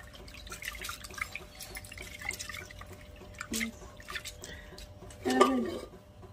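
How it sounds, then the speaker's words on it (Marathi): Water trickles and drips as dirty rinse water is drained off washed lentils, with irregular small splashes and drips close by and a brief louder gush near the end. "आणि पाणी असं आपण गाळून घेणार आहे. घाण पाणी असं ते निघून जातं"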